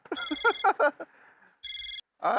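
A mobile phone ringtone plays loudly and close, as a melodic tune that stops briefly and then resumes in short bursts, alone in a quiet room.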